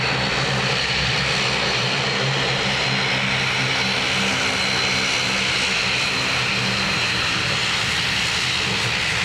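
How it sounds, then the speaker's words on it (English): Airliner jet engines roaring steadily at Dublin Airport, a loud, continuous broadband rumble with a droning low tone that holds without a break, heard alone with no talk. "Wait for the noise change as one engine shuts down."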